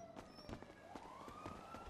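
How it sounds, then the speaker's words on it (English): A faint police siren rises and wails in the distance in the NoPixel 3.0 roleplay game, partly buried under thumping footsteps and game noise. "Sirens. Sirens."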